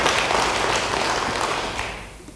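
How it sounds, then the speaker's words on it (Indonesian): A church congregation claps together in a dense, steady burst of applause that fills the space, then gradually thins and fades toward the end. "Yang percaya, beri tepuk tangan bagi dia."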